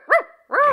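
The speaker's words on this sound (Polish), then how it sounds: "Przygarnęliście psa?" A dog barks twice, close by, in a children's audio story in Polish; two short, loud, clear woofs separated by a brief pause, with no talk.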